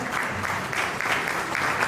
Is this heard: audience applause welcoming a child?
yes